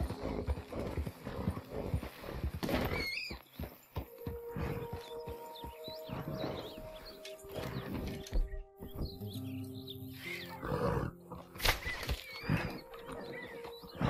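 A horse in the Red Dead Redemption 2 video game plods along with steady clip-clop hoofbeats, joined by a whinny and chirping birds, set against a layered game soundscape with tonal music.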